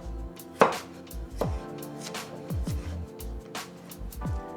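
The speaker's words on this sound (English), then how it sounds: "Our carrot is thinly sliced in strips like this." A knife slices a carrot into thin strips on a cutting board, a series of about eight crisp, uneven chops with a sharp first cut, close and clear with no talking.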